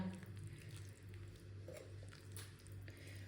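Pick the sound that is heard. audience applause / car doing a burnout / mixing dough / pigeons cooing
mixing dough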